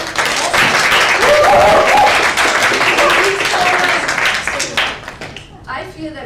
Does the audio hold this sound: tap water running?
no